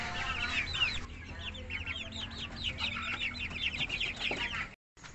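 Several gaok chickens cluck busily while eating, a close, steady chorus of short overlapping clucks and chatter over low background hum, continuing throughout before cutting off abruptly near the end.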